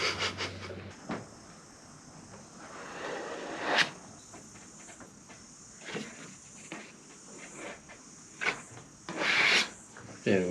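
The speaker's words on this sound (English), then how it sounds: "you pretty much just cover everything and then you sand it right back" Body filler being sanded by hand on an old JDM barn-find car: quiet, intermittent rasping strokes with short pauses, close and soft, with a few louder scrubbing bursts toward the end.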